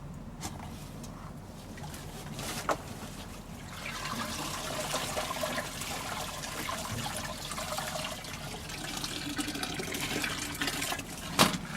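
Water drains and trickles steadily from a squeezed grain bag during a brown ale brew day, a continuous close splashing flow that grows slightly busier partway through, with no speech.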